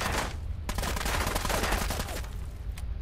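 Enemy gunfire in Fallout 4 during a firefight near Weathervane, a continuous dense clatter of shots and impacts with loud, steady combat noise throughout.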